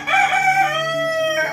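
A single rooster crows once on a farm in the morning, loud and close, in one drawn-out call that trails off at the end.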